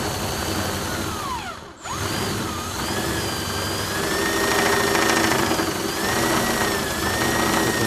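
Engine revving up as more throttle is fed in, a steady mechanical drone that climbs in pitch and grows louder toward the end after a brief dip, heard alone at close range.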